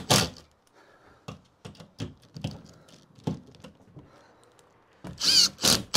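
An impact driver sinks screws into plasterboard during a garden room build, heard as several short, sharp bursts spaced through the clip, ending in louder, longer runs close by, with no talking.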